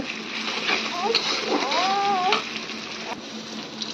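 Chicken meat hits hot oil over lightly fried onions and a little salt, making a loud, sustained hiss. A few brief, voice-like rising tones drift over it before the sizzle eases slightly near the end.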